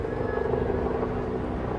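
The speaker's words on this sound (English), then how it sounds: "we can already feel the presence of some helicopters heading towards St. James's Park" Military helicopters flying past in formation toward St. James's Park, led by a Chinook with a Griffin, Puma and Agusta 109 following, heard as a steady low rotor drone at a distance.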